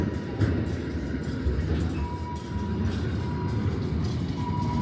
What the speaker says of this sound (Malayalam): കാറ് കൊണ്ടുപോകുന്ന ട്രെയിനാണ്ടോ.